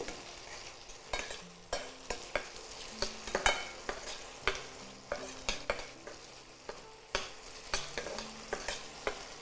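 Tomatoes with salt sauté in a pan for a spicy South Indian vegetarian prawn thokku. Steady, rhythmic spatula scrapes and taps repeat over a gentle sizzle, close by.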